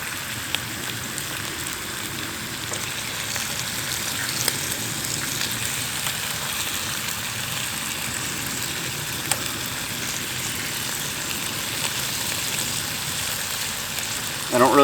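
Bacon sizzles in a pan over a campfire outdoors at a campout, giving a continuous dense crackling hiss at moderate level with occasional sharper pops, steady throughout.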